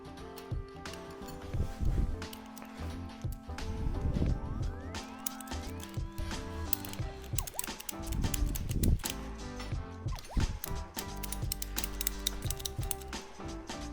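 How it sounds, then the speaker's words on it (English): A ratchet strap is cranked tight around a hydraulic breaker resting on forklift forks, giving a long run of dense metallic clicks and ratcheting bursts, close and busy throughout. "I'm choosing to ratchet strap it to the forks."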